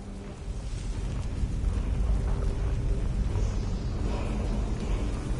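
Rumbling, roaring thunder as a Storm Atronach is summoned in Skyrim, a steady heavy low-end roar that swells slightly and holds loud throughout with no talking.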